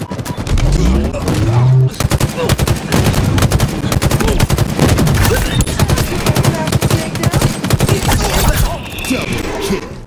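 Gunfire in the Halo Infinite multiplayer video game: loud, dense bursts of rapid automatic shots crackling almost continuously through the clip, close and punchy, with game announcer voice calls heard briefly.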